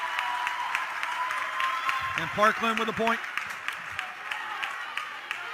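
A crowd cheers and applauds at a 2021 state semifinal volleyball match between Shanahan and Parkland, the noise swelling briefly and running steadily beneath an announcer's talk.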